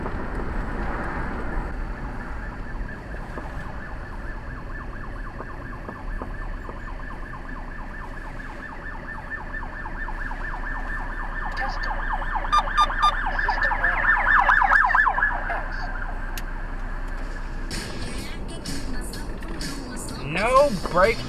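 An emergency vehicle siren on a road in Acadiana, rising as it passes close by amid steady car and traffic noise, with a voice speaking briefly over it.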